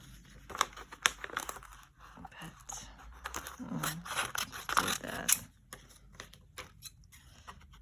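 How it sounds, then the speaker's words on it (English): Large scissors snip through paper in a series of close, uneven cuts, with crinkling and rustling between them and soft talk at times. "Probably should have picked smaller scissors."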